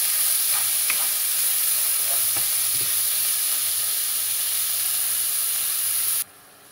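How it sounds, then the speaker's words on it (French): Ground beef filling for homemade samosas sizzles steadily in a pan with a constant broad hiss, broken by a few light scrapes of stirring, before cutting off abruptly near the end. "Et je vais le faire cuire quelques minutes en remuant régulièrement."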